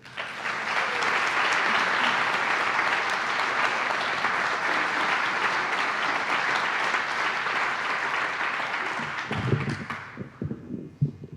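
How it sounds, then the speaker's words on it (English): Conference audience applauding a poet as he comes up to perform, a dense, loud, sustained wash of clapping that runs steadily for about nine seconds before thinning out into scattered claps and a few nearby knocks. "Give a huge round of applause for Victor Jackson"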